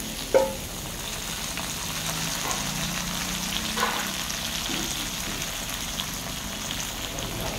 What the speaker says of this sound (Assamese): এতিয়া মই কোমোৰাখিনি খুব সুন্দৰকৈ ভাজি ল'ম